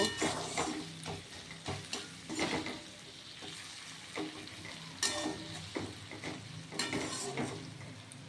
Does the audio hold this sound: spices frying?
yes